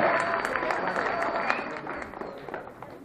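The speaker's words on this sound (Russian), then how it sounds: "Аплодисменты." An audience applauds continuously for contestants walking onto the stage at a speedcubing competition final, a dense, steady wash of clapping that fills the whole span, with some crowd noise mixed in.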